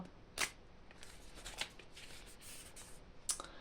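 Oracle cards being shuffled and drawn, giving three short crisp riffling bursts over a faint, quiet background with no talking.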